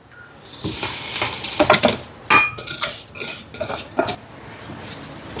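Washed rice tipped into a hot pan for coconut milk rice and stirred with a metal spoon: loud, close clattering and scraping over a soft sizzle, with no speech.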